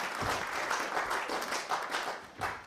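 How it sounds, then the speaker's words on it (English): Steady applause from an audience, a dense wash of many hands clapping together, moderately distant and sustained throughout. "Give him a big round of applause."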